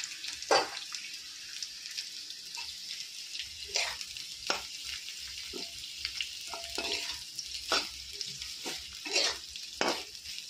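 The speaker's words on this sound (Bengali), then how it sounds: "এটা ভাজা ভাজা হতে থাকুক" Food frying in hot oil in a wok sizzles continuously at close range, broken by sharp stirring scrapes and clanks of a utensil against the pan.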